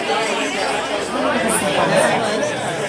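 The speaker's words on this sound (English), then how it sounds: "Oh, we got a crowd on that one." An audience at a Star Trek cruise trivia event reacts to an answer with a steady, dense murmur of crowd chatter and mixed voices. It is fairly loud and continuous throughout.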